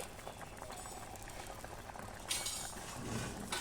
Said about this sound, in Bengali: মশলা দিয়ে মাছটা এবার সুন্দরভাবে আমি ফুটাবো।